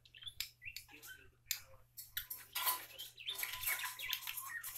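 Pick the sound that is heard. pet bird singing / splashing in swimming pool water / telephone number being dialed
pet bird singing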